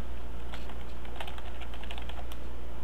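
Steady typing on a computer keyboard, a run of quick clicky keystrokes in irregular bursts close to the mic, over a constant low hum with no talking.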